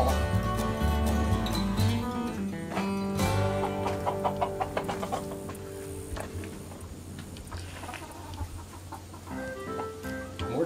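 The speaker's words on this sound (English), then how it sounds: "Chickens." Chickens cluck and squawk in quick bursts amid a busy mix of background music and noise.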